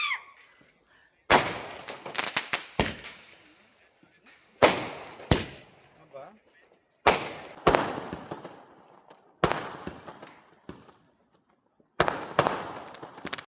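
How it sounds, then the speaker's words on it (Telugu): Firecrackers set off to celebrate India's cricket win, heard as several separate bursts of sharp crackling pops, each cluster lasting about a second with gaps of quiet between, fairly close. "అది టపాసులు పెట్టి ఆనందంగా ఎగురుతా ఉన్నారు మ్యాచ్ గెలిచిందని"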